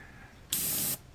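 A single short, sharp burst of paint spray hisses for about half a second against a quiet background, while painting a model ship.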